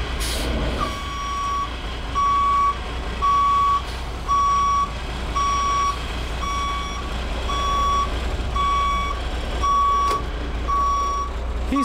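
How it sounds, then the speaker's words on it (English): Class B truck backing straight up during a CDL parking skills exercise, with loud, evenly spaced reversing beeps repeating over a low engine rumble and occasional air brake hiss. "Only thing he has to do now is just back straight up, come within 12 inches of the rear cone itself, set his parking brake"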